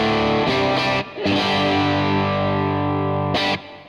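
Electric guitar run through a distortion pedal, captured on a Neural DSP Quad Cortex rig with treble turned up, ringing loud sustained overdriven chords with brief gaps between strums.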